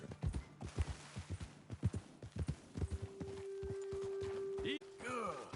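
Horse hooves clip-clop steadily on a road in Red Dead Redemption 2, a quick run of close footfalls that thin out, followed by a sustained tone and a brief whinny-like sound at the end.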